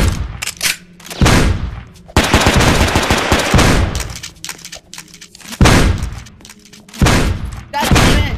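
Video game gunfire in rapid automatic bursts, loud and close, several long volleys broken by short pauses.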